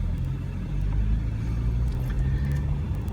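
A 2013 BMW 335i M Sport Convertible pulls away, its engine a loud, steady low rumble close by with no one talking.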